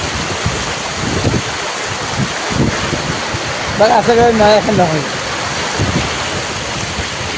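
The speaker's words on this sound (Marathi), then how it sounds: "फुल्ल क्षमतेनं पाणी वाहते बघा. फुल्ल क्षमतेनं इकडून तर पाणी निबार वाहते. कसा आवाज येतो पाण्याचा बघा." The flooded Maan river rushes at full capacity as a steady, loud roar of water, with wind buffeting the microphone and someone talking over it.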